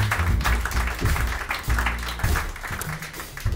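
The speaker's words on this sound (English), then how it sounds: "it's a good time to clap." An audience claps at a live music concert at Riverside Studios in Cologne. The applause is dense, steady and sustained, with a low musical or room hum underneath and little talk.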